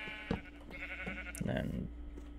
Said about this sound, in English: there's already sheep over here